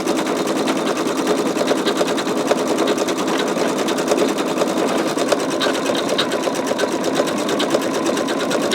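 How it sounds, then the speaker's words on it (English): An embroidery machine stitches out a skull design with a steady, rapid mechanical clatter of needle strokes, close and continuous without a break. "I'm going to go ahead and just let it stitch out and let you watch this"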